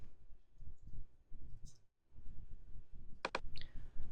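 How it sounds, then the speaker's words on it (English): Computer mouse clicks during payroll data entry: two quick, crisp clicks close together near the end, set against low background rustle and handling noise. "I'll just click off and back on."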